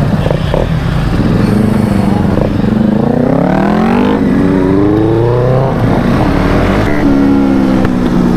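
Motorcycles including a Benelli 600 and a Ninja 400 with an SC Project exhaust, loud close engines revving and climbing in pitch through the gears, rising and falling several times with continuous engine roar.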